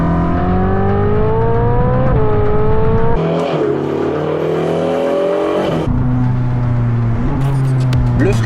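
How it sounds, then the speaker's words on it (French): Ferrari 458 Speciale V8 screaming up through the revs under hard acceleration, with rising pitch sweeps broken by quick gear changes, loud and close inside the car, a voice talking over it. "Le moteur qui hurle, la boîte ultra réactive"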